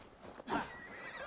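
A horse neighs in the video game Assassin's Creed Valhalla, one close, loud whinny rising and fading over about a second amid faint game ambience.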